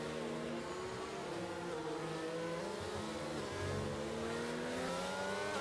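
Race cars in a sim racing game accelerate hard at a restart on a Canada circuit, several engines revving and droning together in a continuous, loud, layered roar.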